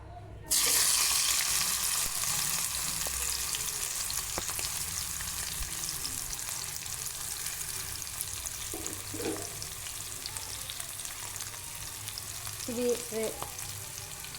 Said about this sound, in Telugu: ఇలా ఫ్రై చేసి చూపిస్తాను ఇప్పుడు.